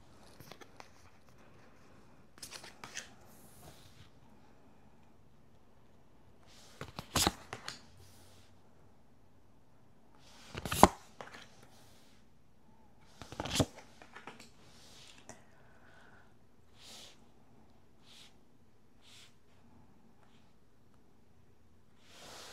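Tarot cards handled and laid out in a quiet room: a few sharp snaps and flicks of cards among faint rustling, with long still gaps between them.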